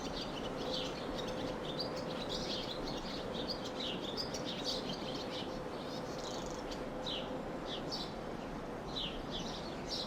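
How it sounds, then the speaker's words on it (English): Birds chirp and sing repeatedly along a rural Camino de Santiago footpath among vines and olive trees near Pamplona, their calls fairly distant over a steady broadband outdoor hiss, with no voices. "As I walk in my own thoughts and hear the birds singing"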